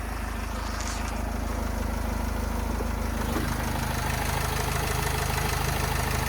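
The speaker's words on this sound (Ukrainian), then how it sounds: "Так, роботу мотора чути" A 2011 Renault Trafic 2.0 engine (115 hp) idles steadily with a constant low rumble and rhythmic mechanical ticking, running evenly without revving throughout.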